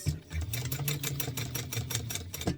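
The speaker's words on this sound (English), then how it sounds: "I'm just sewing an eighth of an inch around here, top stitching." Sewing machine top stitching an eighth-inch seam on fabric, a steady rapid mechanical chatter of needle strokes with a low motor hum, close and continuous.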